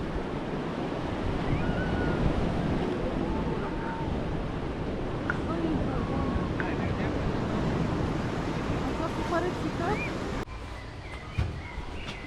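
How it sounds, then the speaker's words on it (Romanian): Sea waves wash onto a beach in Turkey, a steady, full roar of surf blended with wind buffeting the microphone, constant and close, easing slightly near the end. "Și vom face valurile mari."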